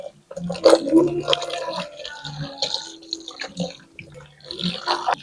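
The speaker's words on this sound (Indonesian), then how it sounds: "Sudah saya sikat semua dan saya bilas" Water splashing and squishing as a scrubbed plush doll and items are rinsed by hand, with irregular wet sloshes and drips close by, fairly loud throughout.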